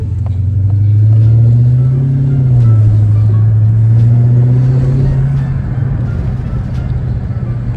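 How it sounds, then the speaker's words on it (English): A Dodge Hellcat's engine rumbles loud and close, its deep note swelling as it accelerates, easing back, then pulling again before fading slightly at the end. "You gotta give it some gas being in the Hellcat."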